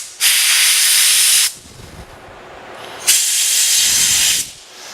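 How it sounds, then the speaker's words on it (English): A compressed air nozzle blows out a welder liner in two loud, close hissing bursts of roughly a second and a half each, separated by a short quiet gap. "So I'm going to take my nozzle and blow this liner out."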